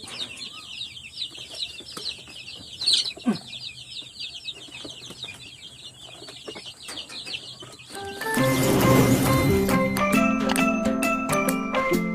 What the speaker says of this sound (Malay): Kalau dah ambil dah anak-anak ayam Ada 16 ekor